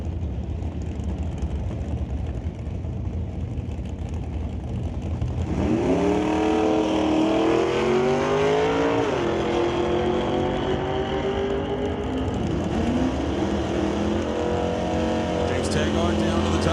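Two drag racing cars, an S10 and a Falcon, launch and roar down the strip at Mission Raceway Park, engines climbing steeply through the gears over a steady crowd and track din, loud and sustained after a quieter idle.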